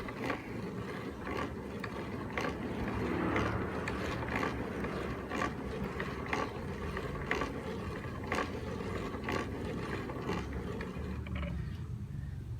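A clamp-on hand grinder mounted on a board over sawhorses outdoors grinds masa, giving a steady, close mechanical grinding and ratcheting with regular rhythmic clicks throughout and no talk.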